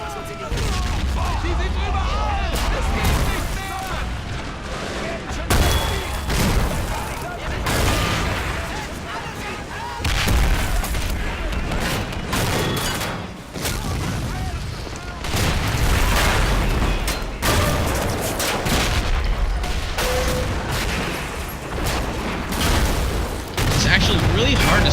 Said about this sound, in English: Those are 4 3-inch mortars firing at the Germans.